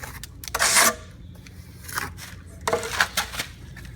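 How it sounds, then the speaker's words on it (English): A trowel scrapes and smooths a vertical concrete overlay mix on a wall, giving intermittent close rasping strokes with short pauses between them and no talk. "Smooths off really nice off the trowel."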